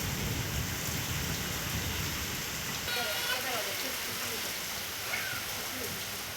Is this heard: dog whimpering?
no